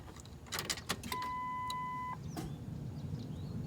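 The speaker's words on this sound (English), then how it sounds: "Let's get that fuse panel cover back on there, fire the truck up, and see if that thing turns on." Ford 7.3 Powerstroke diesel truck coming to life, with a few clicks and rattles, a steady chime tone held for about a second, and then a low, steady rumble settling in beneath it.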